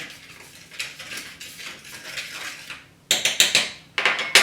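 Dry seasoning being mixed onto fish before beer-battering, heard as a quiet stretch and then a burst of sharp utensil clinks and scrapes against a dish, close and fairly loud.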